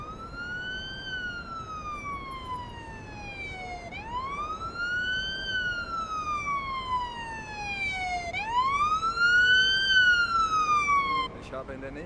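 A police car siren in the video game Police Simulator: Patrol Officers wails with long rising and falling sweeps, three slow cycles, steady and loud over a low background rumble.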